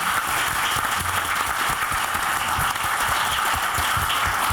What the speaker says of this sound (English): Round of applause to our students.